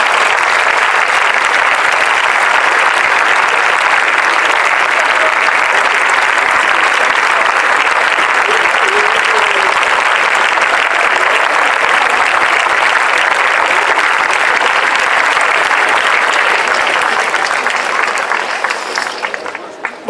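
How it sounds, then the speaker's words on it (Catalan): Loud, sustained applause from a large crowd at a Tarragona campaign rally for the CUP referendum, an even roar of clapping that runs unbroken for about twenty seconds before dropping off abruptly at the very end. "Fora aplaudiment."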